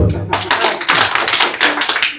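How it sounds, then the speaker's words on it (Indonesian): An audience at a village government gathering applauds a district official, a loud, steady round of many hands clapping close by for a couple of seconds. "Tepuk tangan dulu buat beliau."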